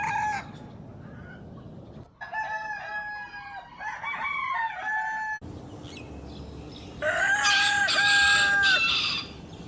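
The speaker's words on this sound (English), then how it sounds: "rooster," Several farmyard roosters crow in turn, long rising and falling cock-a-doodle-doos that overlap, loud and close with no voices.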